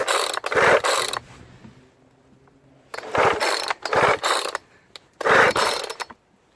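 Three quick pulls on the starter cord of a Poulan 2050 gas chainsaw, each a loud ratcheting, whirring burst with short quiet gaps between.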